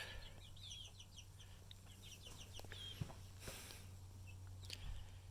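Several chickens in a backyard scrap-wood coop make soft, scattered clucks and chirps, faint and near, with a few light knocks and footsteps over a low hum.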